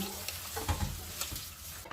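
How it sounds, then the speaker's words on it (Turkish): Short clip of meatballs sizzling and searing in a pot, with a couple of soft stirring knocks and scrapes over a steady hiss. "Şöyle döndüre döndüre köftelerimizi mühürleyelim"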